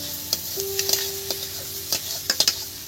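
A ginger, garlic and green chilli paste, freshly ground on a grinding stone, fries in a pan for a lote fish curry, giving a steady close sizzle broken by repeated scraping stirs of a spatula.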